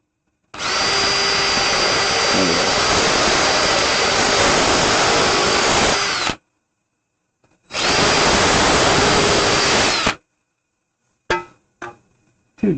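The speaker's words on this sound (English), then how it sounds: "Come on, little drill." A handheld power drill runs in two long sustained bursts, close and loud, while drilling during an air compressor pre-cooler build, followed by a few short clicks and brief clatters near the end.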